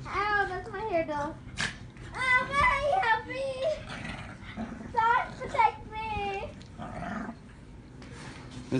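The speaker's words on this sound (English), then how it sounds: "This is a vicious dog." A dog whimpers and whines in high, wavering cries, with growly yelps in between, close by inside a home while people talk nearby.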